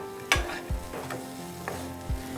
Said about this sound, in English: We'll saute for a few minutes.